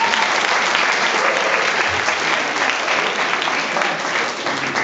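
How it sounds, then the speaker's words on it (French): Theatre audience applauding at the opening of the season at the Théâtre François Ponsard, a full, dense wash of clapping that holds steady and loud throughout with no pauses. "je vous applaudis très fort"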